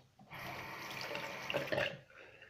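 Tap water runs steadily at a sink during a shave, a continuous close splashing hiss that holds for about two seconds before cutting off, with no talking over it.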